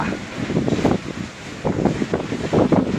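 Strong gusting wind in a thunderstorm with little rain, roaring and buffeting against the microphone in uneven surges that swell and ease throughout, loud and close with no talk.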